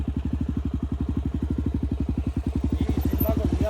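A Honda Tornado 293 motorcycle ridden through mud on an enduro outing near Bahía Blanca. Its engine throbs in a rapid, steady train of loud, close thumping pulses that climb slightly in pitch toward the end.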